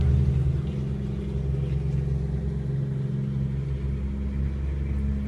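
Peterbilt truck engine in Australia rumbles steadily at a deep, constant drone, close and loud throughout with no talk over it.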